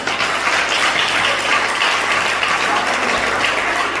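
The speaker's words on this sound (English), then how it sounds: "Can we clap for Jesus?" A church congregation claps together in sustained, dense applause during a Sunday morning service led by a prophet, steady and loud throughout with no voices rising above it.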